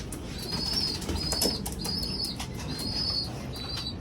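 Racing pigeons in a loft flap their wings in repeated bursts, with soft coos and occasional chirps mixed in and a faint high whistle-like tone recurring alongside the flutters; no one speaks.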